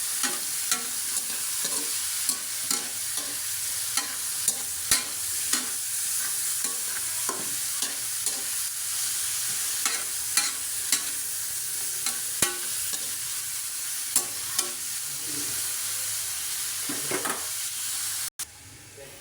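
Sautéed bitter melon with egg, seasoned with pepper, is stirred in a pan, with a steady close sizzle broken by regular scraping and clacking strokes of the spatula.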